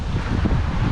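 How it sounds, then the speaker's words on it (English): Wind gusts outdoors in 107-degree heat, a dense, steady rush and buffet close to the microphone with no break. "I'd rather have wind on 107-degree weather than no wind at all"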